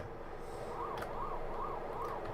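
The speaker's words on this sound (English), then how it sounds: "I don't like the fact that the siren noises change when they're not actually changing based on the phases of the ghosts" Pac-Man ghost siren from a video game, a repeating rising-and-falling electronic wail cycling about four times in steady rhythm, faint and low in level beneath a background hum.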